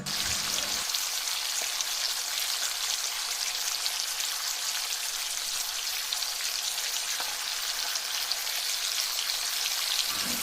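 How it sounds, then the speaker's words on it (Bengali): Chicken puri frying in a pan of hot oil gives a dense, even crackling sizzle that runs loud and steady throughout, close up with no voices. "তারপর এক এক করে চলে যাচ্ছে তেলের ভেতর আমাদের চিকেন পুরি"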